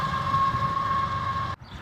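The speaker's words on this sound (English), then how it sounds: "And there goes the helper locomotive on the back." A train rumbles past with a helper locomotive pushing at the rear, a steady loud roar of engine and wheels with a sustained tonal whine, cutting off abruptly near the end as it moves away.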